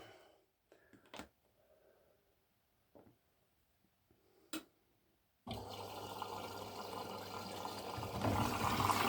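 An over-18-year-old Hoover washing machine starting up with a few clicks and knocks, then water suddenly rushing in to fill the drum, a loud steady hissing flow with a low hum that grows slightly fuller, no talk.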